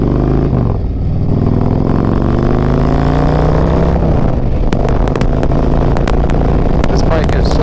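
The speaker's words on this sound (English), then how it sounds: "this bike is so fast with the acceleration" A Harley-Davidson CVO motorcycle fitted with Kraus bars accelerates hard, its engine note rising steadily and loud from the rider's position, with wind and clatter building as speed picks up.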